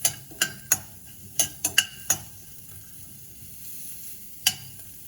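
Onion sizzles in a pan while being stirred, with sharp clicks and scrapes of the spoon against the pan over a steady soft hiss, close and fairly quiet.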